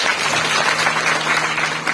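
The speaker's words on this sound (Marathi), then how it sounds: "जोरदार टाळ्या एकदा त्यांच्यासाठी" Audience applause at a Marathi kirtan during an akhand harinam saptah: thick, sustained clapping from a crowd, steady and fairly loud throughout.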